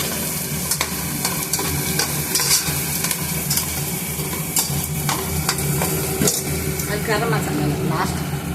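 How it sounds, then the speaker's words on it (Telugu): Curry leaves crackle and fry in hot oil for a fish curry, a dense continuous sizzle close up with sharp pops scattered throughout, while a voice talks over the frying. "ఇప్పుడు అది ఫ్రై అయ్యాక కొంచెం మనము కరివేపాకు వేసుకోవాలి"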